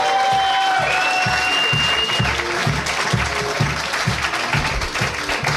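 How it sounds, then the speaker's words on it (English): Audience applause for comedian Joey Diaz at a comedy club, loud and continuous, with cheering and a rhythmic pulse of low thumps running through it. "Big applause for Mr. Joey Diaz."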